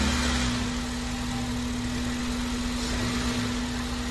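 A car engine runs close by with a steady mid-low drone and a gentle lift in revs, loud and continuous with no talk.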